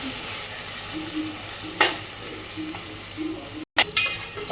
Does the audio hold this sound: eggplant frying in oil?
yes